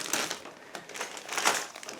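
Clear plastic bag holding a 1/72 scale Eduard Hind model kit's plastic sprues, crinkled and handled in short bursts of rustling and crackling, close and moderately loud with no talking.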